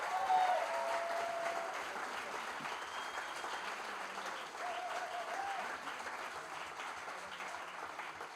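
Sustained applause from an audience at a product design fair, a dense even clatter of many hands lasting the whole stretch, moderately distant and softening slightly toward the end.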